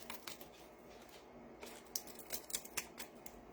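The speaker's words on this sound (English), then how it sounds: "so I'm going to trim it with scissors first." Soft, quick snips and rustles come in an irregular cluster, quiet and close, like scissors trimming material, with no voices.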